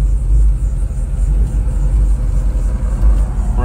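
A 1965 Chevrolet Nova being driven, its engine giving a steady, loud low rumble heard from inside the car with no break.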